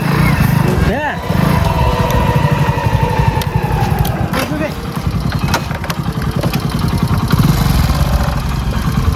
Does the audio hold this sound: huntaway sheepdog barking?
no